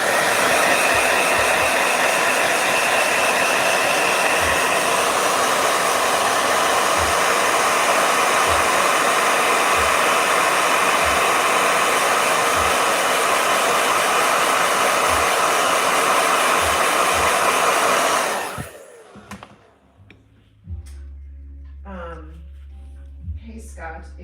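Hair dryer blowing loud and steady for about eighteen seconds before switching off, followed by quieter room sound with a low hum and brief voices.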